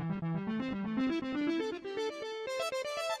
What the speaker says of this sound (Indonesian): Contohnya adalah synthesizer yang menjadi lead